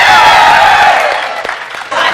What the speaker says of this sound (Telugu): give him a big round of applause